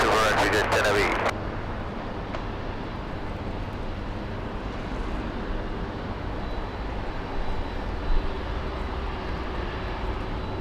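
A large heavy airliner lands on runway 24 right at LAX. A broad, steady engine rumble with a distant roar carries on throughout, with a short sharp burst at the very start.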